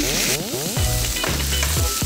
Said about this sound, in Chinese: 我们再用这个牛油来煎